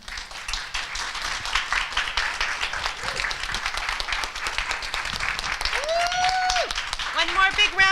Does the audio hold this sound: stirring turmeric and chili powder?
no